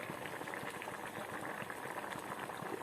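Pea ghugni curry with added water coming to a boil in a pot, a dense, steady bubbling and popping that stays low and even throughout, with no voices.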